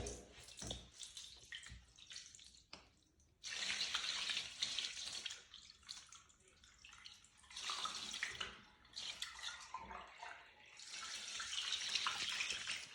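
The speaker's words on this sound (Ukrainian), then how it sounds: "по нашій традиції ми перевіряємо, як стікає вода в душовому підоні" Water pours and drains into a Geberit Clean Line shower tray in a newly tiled bathroom, a steady splashing rush that comes in several bursts with short pauses between them.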